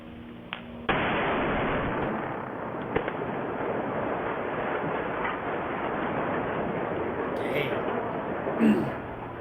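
Bridge demolition charges detonate in a sudden loud burst that becomes a sustained roar of collapsing steel and debris lasting several seconds, with faint talk and a couple of sharp cracks near the end.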